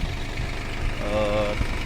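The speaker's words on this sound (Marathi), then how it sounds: "आपलं ट्रॅक्टर आहे महिंद्रा ओजा" A Mahindra Oja 30 hp tractor engine idles with a steady, close rumble, and a brief voice rises over it midway.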